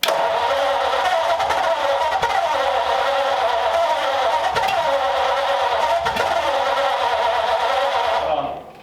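A freshly installed hot rod engine in a 1934 Sedan Delivery with an electric fuel pump fires right away and runs at a steady, loud, even drone for several seconds before cutting off.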